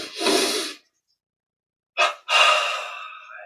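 Two quick sharp inhales during a yoga breathing exercise, a broad breathy gasp followed after a pause by a short sniff and a longer drawn breath, close and clear with no talking.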